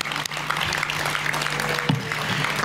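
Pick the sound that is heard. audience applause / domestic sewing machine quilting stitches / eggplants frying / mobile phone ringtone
audience applause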